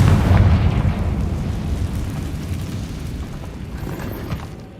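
A Confringo spell explosion in the Hogwarts Legacy video game, inside a cave, a single deep booming blast that rumbles and slowly fades over several seconds.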